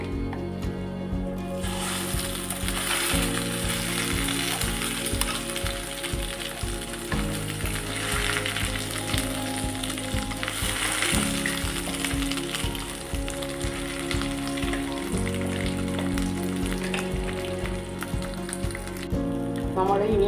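Ground masala for ginger curry fries in a pan with a continuous soft sizzle, partly masked by steady background music.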